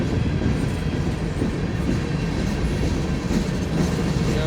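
Six Montana Rail Link locomotives, led by number 4303, pulling a train past Cole Road, with a steady loud rumble and rattle of rolling cars filling the whole clip, close by, with no talk.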